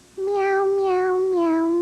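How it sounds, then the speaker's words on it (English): A sustained, sing-song cat meow from a 1992 Meow Mix TV commercial jingle, one long, clear and loud tone with wavering pitch lasting well over a second. "Remember when cats sang for Meow Mix?"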